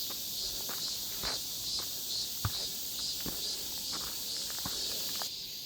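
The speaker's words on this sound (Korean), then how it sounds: "쉬지 않고 울어주는 매미 소리" Cicadas sing in a forest along a Seoul walking trail, a steady high-pitched buzzing drone that pulses in a regular rhythm, with faint footsteps crunching on the path below it and no voices.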